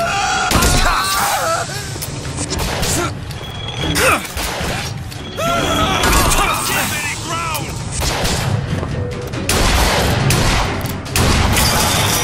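Loud, dense gunfire and booming blasts in the shooter game Bioshock Infinite, with crashes and mechanical clatter running throughout and game voices audible among the shots.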